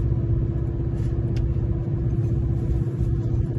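A loaded truck drives along a road, its engine a constant loud, close low rumble with steady road noise and no talking.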